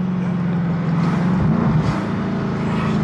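A car accelerates at half throttle, its engine a loud, close, steady droning rumble with a slight rise in pitch, heard from inside the cabin.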